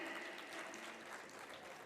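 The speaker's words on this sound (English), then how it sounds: "Let's give a big round of applause for amazing children" An audience of parents claps steadily at a school annual day for the children, a dense, even wash of applause heard from a distance and fairly faint, with no break in it.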